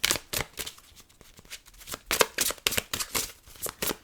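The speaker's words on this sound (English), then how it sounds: "I'm going to pull you some more cards from the Romance Angels Oracle deck." Romance Angels oracle cards being shuffled up close, a rapid series of crisp riffling flutters and soft slaps in uneven bursts, fairly quiet and with no talking.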